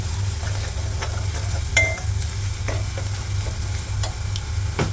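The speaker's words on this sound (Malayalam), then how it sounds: "പിന്നെ ആവശ്യത്തിനുള്ള മഞ്ഞൾപ്പൊടി ഇതും കൂടി ഇട്ട് നന്നായിട്ട് വഴറ്റാം" Kashmiri chili powder and turmeric sauté in a pan with a low steady sizzle, punctuated by a few sharp spoon scrapes of stirring.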